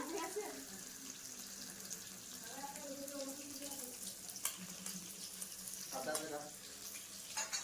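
Chili chicken cooking in a home kitchen, a faint steady sizzle of frying under soft talking voices and occasional clinks.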